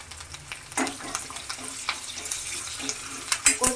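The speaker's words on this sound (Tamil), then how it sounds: "பூண்டு வந்து இப்படி எண்ணெயில் ஃப்ரை ஆகுறப்போ நல்லா டேஸ்ட் கொடுக்கும்." Garlic, dried red chillies and mustard seeds tempering in hot oil for a Tamil brinjal vatha kuzhambu, with close crackling sizzle, spattering pops and stirring scrapes throughout.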